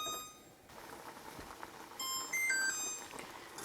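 A kitchen timer gives a few short electronic beeps as it is set, quiet against low background kitchen noise.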